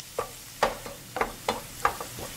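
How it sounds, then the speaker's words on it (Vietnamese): Lemongrass and minced garlic are stir-fried in a pan, giving a series of about six short scraping stirs at a steady pace over a low sizzle, close up and alone. "Xào đều lên."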